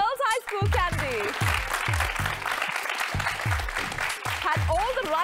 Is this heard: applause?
yes